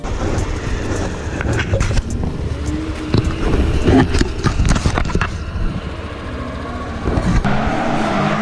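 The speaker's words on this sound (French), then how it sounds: "il y a des chars qui font de la drift" Drifting cars on a race track roar and whine continuously at a distance, with scattered clicks and rattles over a busy, rumbling mechanical din.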